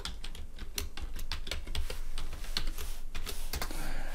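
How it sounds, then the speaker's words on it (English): Rapid clicking keystrokes on a computer keyboard as a password is entered, close and crisp, in uneven bursts with short pauses, no voice. "then I'm going to type the password."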